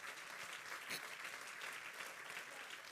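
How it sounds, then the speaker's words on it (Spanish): Congregation at a church sermon breaks into steady applause, a dense continuous patter of many hands at moderate level with no one speaking over it. "Apláudale fuerte, le va a aplaudir."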